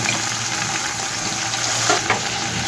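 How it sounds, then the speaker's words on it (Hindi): Peas fry with ginger and garlic in oil for a chicken and vegetable pulao: a steady close sizzle with a couple of brief louder crackles. "और उसी के साथ हम मटर भून लेंगे।"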